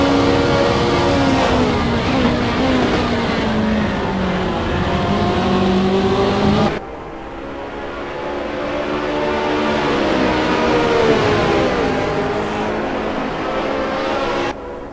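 Race cars in a sim racing game roar continuously at Imola, engines loud and close with rising and falling revs through gear changes, a brief dip midway before another car's engine note climbs again.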